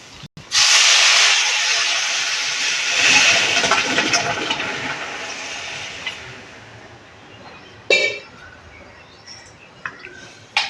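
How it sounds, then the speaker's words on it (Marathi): A pressure cooker full of one-pot amti and rice lets out a loud, sustained steam hiss for most of the stretch. The hiss fades toward the end, and a few sharp clicks and bursts follow. "आपण कुकर लावलाय, 3 शिट्ट्या काढून घेणार आहोत."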